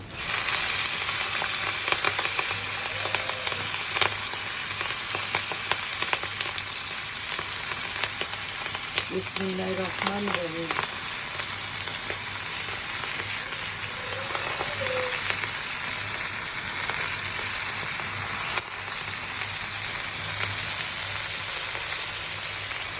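Leafy greens sizzle in a wok with fried onion and chilli, a steady broadband hiss that runs the whole way through, with occasional stirring clatter and a short spoken phrase partway in.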